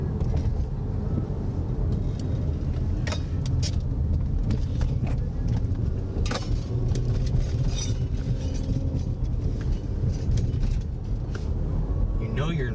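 A car drives with a steady, dense rumble of engine and road noise throughout, with occasional sharper knocks and rattles on top.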